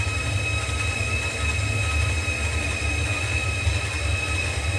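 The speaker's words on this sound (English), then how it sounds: "This game has no concept of high-speed trains." A Shinkansen high-speed train runs in the Trainz simulation game, producing a steady, loud rolling rumble with thin sustained whining tones that continue without a break.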